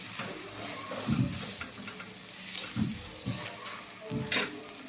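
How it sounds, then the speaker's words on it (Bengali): Bora fritters sizzle in hot oil in a home kitchen, with steady frying hiss broken by a few soft scrapes and clinks as they are stirred by hand, ending in one sharp metallic tap. "এভাবে আমি সব কটা বড়োটা ভেজে নেবো"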